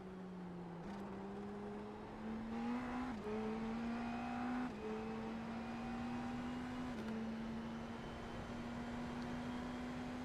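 An IndyCar NXT race car in the iRacing sim at Portland, its steady high-pitched engine drone running continuously with small shifts in pitch as it changes gear along the track, with no voices.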